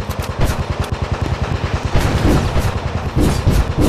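Rapid, steady machine-gun fire from a World War One fighter plane in the VR game Warplanes WW1 Fighters, a continuous rattling stream of close shots over a droning engine, briefly pausing before resuming.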